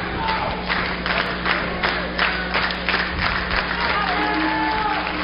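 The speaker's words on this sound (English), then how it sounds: "Crowd appreciating the action, firing up," Women's wrestling match crowd cheering and clapping in rhythmic bursts, a loud chanting rally with regular surging claps throughout.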